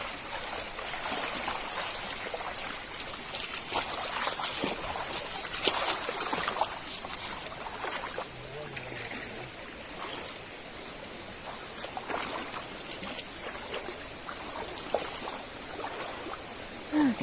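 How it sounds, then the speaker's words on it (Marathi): A river flows and trickles steadily while someone wades across it on the way to farm fields in rural Konkan, with a soft, continuous rushing of water and no voices. "चला जाऊया नदी पार करून पलीकडं"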